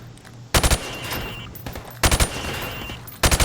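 Gunfire in the video game Call of Duty Modern Warfare: three short, sharp bursts of rapid shots, each a quick cluster of about three cracks, spaced over a few seconds against a faint background hum.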